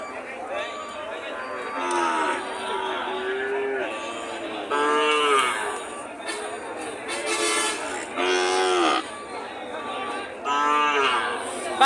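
Cattle and calves low repeatedly at a livestock market where Sahiwal, Gir and Rathi bulls are sold, with long, loud moos rising and falling over crowd murmur.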